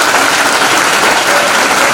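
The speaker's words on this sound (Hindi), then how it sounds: "जोरदार हमारी मम्मी और नीतू मैम के लिए तालियां एक बार हो जाए।" Loud, dense applause from a seminar audience in Tirwa welcoming a guest, sustained even clapping from a large crowd with no one speaking.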